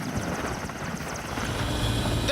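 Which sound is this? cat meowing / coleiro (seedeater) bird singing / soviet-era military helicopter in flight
soviet-era military helicopter in flight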